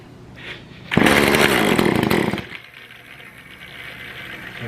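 An Echo CS400 chainsaw with the choke pulled fires off and roars at high revs for about a second and a half, close and loud, then drops back to a rough, uneven idle.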